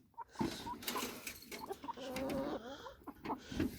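Several chickens cluck and squawk close by in busy, overlapping bursts, with short rising calls between them.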